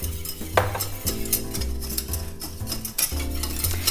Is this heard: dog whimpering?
no